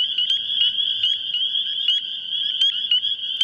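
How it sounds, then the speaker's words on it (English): A spring amphibian chorus of green frogs, tree frogs and bullfrogs, dominated by a continuous high, pulsing trill close by, with soft lower calls faint underneath. "Green frogs, tree frogs, bullfrogs, each adding to the chorus."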